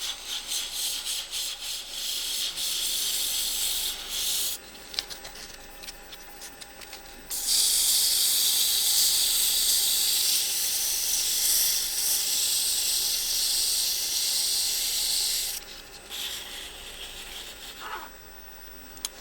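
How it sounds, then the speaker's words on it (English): A turned wooden Shaker knob being sanded with 240 to 320 grit sandpaper on a lathe, heard as soft rubbing hiss in uneven bursts, with a long, steadier stretch of sanding in the middle. "But I'm still gonna hit it with a little bit of sandpaper. Just some 240, maybe 320 to finish it up"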